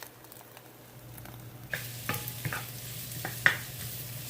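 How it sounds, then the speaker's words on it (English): Oil sizzles steadily as carrots are stir-fried in a pan, with occasional scraping clicks and taps from a utensil; no one speaks. "So I'm stir frying the carrots right now."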